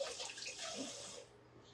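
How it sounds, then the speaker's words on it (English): Shrimp rinsed under a running kitchen tap, a steady splashing water rush that runs loud and close for over a second, then thins out toward the end. "We're going to grab this shrimp and we're going to wash it."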